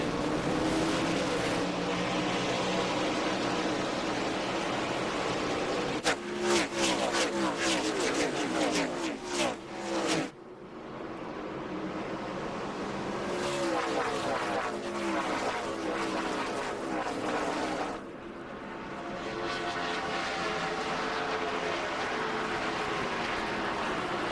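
ARCA stock cars race at Nashville just after the green flag in the 2005 ReMax 200, with a dense, loud roar of engines that swells and shifts as the pack passes, broken by a brief drop midway.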